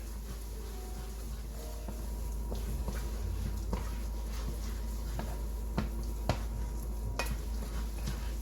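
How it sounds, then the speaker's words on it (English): Burrito filling with garlic stirred in a pan as it cooks, a soft steady sizzle under scattered scrapes and taps of the utensil, close and low in level. "Stir this."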